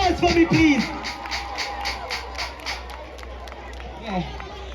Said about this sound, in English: Give the ladies a round of applause for me, please.